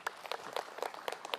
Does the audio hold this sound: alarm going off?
no